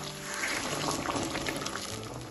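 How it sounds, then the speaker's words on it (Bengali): Hot water heated in a pan being poured into a simmering curry, a steady continuous splashing and sizzling pour that fills the whole moment at close range. "আমি একটা প্যানে জল গরম করে নিয়েছিলাম, সেই জলটা দিয়ে দিলাম।"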